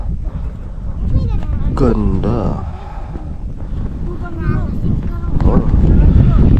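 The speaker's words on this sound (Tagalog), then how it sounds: "Hangin oh." Strong wind at a mountain view deck buffets the microphone with a constant deep roar that swells and eases, while people chat over it.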